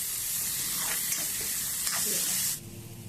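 Chopped tomato fries in a pan, a loud continuous close sizzle with occasional stirring scrapes, easing off abruptly near the end.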